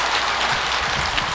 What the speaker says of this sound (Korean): 저 박수 한번 보내드리십시오